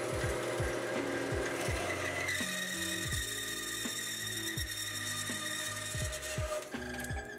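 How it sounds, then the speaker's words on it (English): Power saw cutting through standoff stock in a robotics team shop, a steady continuous grinding whine with a sustained tonal hum and repeated low rhythmic thumps throughout, fairly close and alone without voices. "I'll turn the saw on with the switch and let gravity do the rest of the work."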